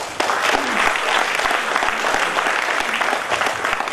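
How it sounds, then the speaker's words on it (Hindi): Audience applause at a healthy living seminar on stage: loud, dense, continuous clapping from a sizeable crowd, steady throughout with no talk over it. "जोरदार ताली"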